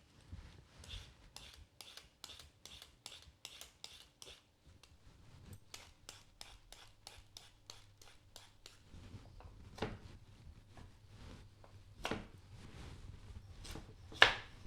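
A carrot being peeled with a peeler, a run of quick rhythmic scraping strokes close by in a quiet kitchen, with a pause midway and a few louder scrapes near the end.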